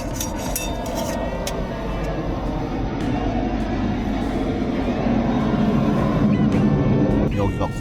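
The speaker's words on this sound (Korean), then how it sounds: "여기가 공항 근처라서 중간중간 저렇게 비행기 날아가는 소리가 들려요." An airplane flying over a campground near the airport in Daegu, South Korea, a broad low roar that swells gradually and stays continuous in the background.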